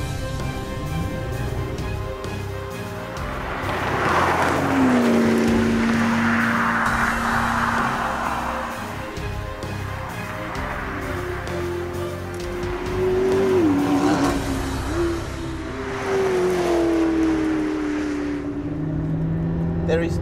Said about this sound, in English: I think it's time to go and see what the P1 is like on a beautiful Welsh mountain road.